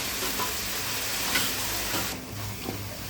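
Onions sautéing in a pan while egg noodles are made, a dense, close, continuous sizzle with light stirring scrapes, easing slightly toward the end.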